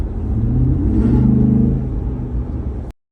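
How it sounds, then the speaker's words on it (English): Ford SVT Raptor transmission making a low clunk, rattle and vibration, heard as a steady close rumbling drone for about three seconds before cutting off abruptly, with no talking. "you'll hear kind of that weird clunk, rattle, vibration"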